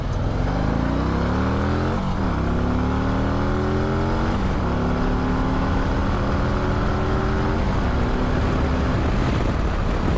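A 2026 Harley-Davidson touring motorcycle accelerates hard from 0 to 80, its engine note climbing steadily and dropping at each of several gear shifts, loud and close over heavy wind rush.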